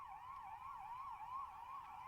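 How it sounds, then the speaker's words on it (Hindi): Ambulance siren wailing at a railway station in Patna where a train was set on fire during protests, a steady rising-and-falling electronic tone sounding continuously at moderate distance over low background rumble. "एम्बुलेंस के भी सायरन की आवाज हम सुन सकते हैं"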